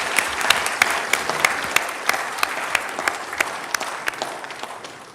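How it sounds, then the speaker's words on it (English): Applause for the Maple Point Middle School Choir and its director at a township board of supervisors meeting, a steady round of clapping from the room with a few sharper claps standing out as it slowly fades. "How about one more round of applause for the Maple Point Middle School Choir and their director"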